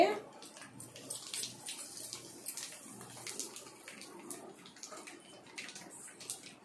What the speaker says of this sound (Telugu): తర్వాత చింతపండు రసం, నిమ్మకాయ రసం వేసుకుంటున్నానండి.